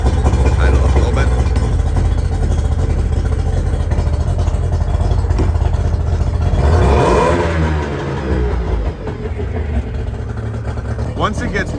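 An outboard motor on a restored aluminum fishing boat revs, a loud mid-pitched engine roar that holds steady, swells briefly, then drops back toward a rougher idle, close up and dominating the whole stretch.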